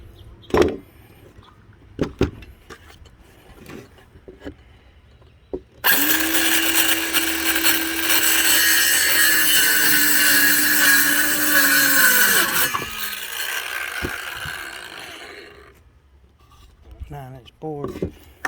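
A power saw cuts a wooden board for a small DIY birdhouse, a steady loud whine that holds for about seven seconds and then slows down, with a few knocks and handling sounds before and after.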